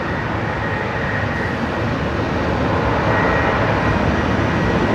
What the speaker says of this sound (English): And this is Qantas 545. They're off to Sydney this evening.